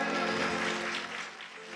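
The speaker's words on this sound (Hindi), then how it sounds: "आई तो बजाओ ताली फिर।" Listeners at a Bhaktmal Katha religious discourse clap softly over a sustained, droning musical tone. The clapping is fairly faint and thins out toward the end.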